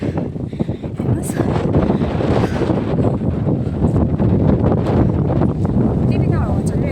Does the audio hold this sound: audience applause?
no